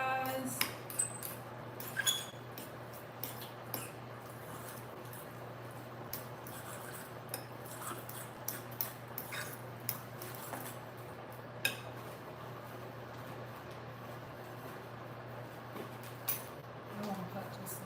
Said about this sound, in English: Stir that in there real good